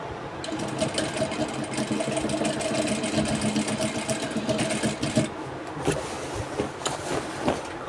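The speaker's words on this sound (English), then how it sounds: "put it on my sewing machine, and we are going to start sewing" A sewing machine stitches a dress in a steady, continuous mechanical whir that runs close and fairly loud for the whole stretch, with slight rhythmic variation and no talking.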